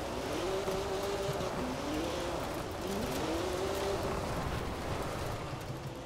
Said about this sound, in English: Car sounds so good in the tunnel, man.